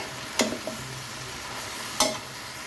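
Leafy greens cook in a pan under a soft, steady sizzle, with two distinct scraping stirs of a utensil standing out, near and with no talking.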